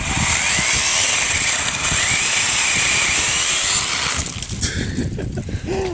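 A cheap cordless LEADER reciprocating saw cutting through garden debris, its loud, steady buzzing drone running close for several seconds before cutting out, followed by rustling of branches.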